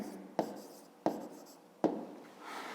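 A pen writing an answer by hand on paper for a fifth-grade math exercise, heard as three firm taps on the page, each followed by a short scratchy stroke, close and fairly quiet.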